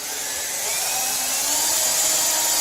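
A power drill bores into pressure-treated 4x4 timber for a homemade weight bench, its loud, close whine rising slowly in pitch as the bit bites deeper.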